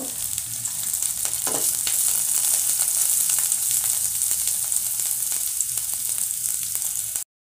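Vegetables for Manchurian sizzling in hot oil, a steady close frying hiss with a few light stirring scrapes early on, continuous and untalked-over until it cuts off abruptly.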